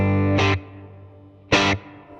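Two sustained guitar chords through a Fender Mustang GT amp set to a large hall reverb, each loud, bright and distorted, with a long reverberant tail fading away after each strum; no talking.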